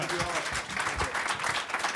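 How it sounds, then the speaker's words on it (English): An audience at a French press conference for the 2019 Aladdin film breaks into applause, a dense patter of clapping with voices speaking over it. "round of applause"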